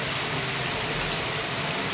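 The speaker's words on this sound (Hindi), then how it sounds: "बारिश में भीगते हुए" Heavy rain pours steadily, a dense, loud hiss with no gaps or voices.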